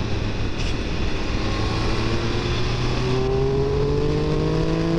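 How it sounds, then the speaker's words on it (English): Triumph Speed Triple 1200 RR triple-cylinder engine revving through its exhaust with intake noise, a steady loud drone that climbs in pitch as it accelerates, heard close and continuous with no talk. "I just love the sound of that exhaust, that triple engine, the intake, everything."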